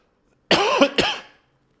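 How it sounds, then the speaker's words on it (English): A single close cough with a quick second burst right after, sharp and brief, followed by silence. "Excuse me, I'm going to cough."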